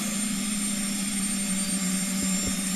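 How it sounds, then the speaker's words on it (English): A Boeing 737-300 auxiliary power unit runs in a flight simulator game, a steady, continuous whine and hum with a high tonal drone over a low rumble, constant and unbroken throughout, with no talking. "you can hear the APU"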